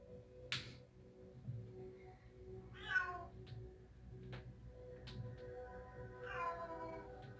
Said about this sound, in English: And I have a really loud cat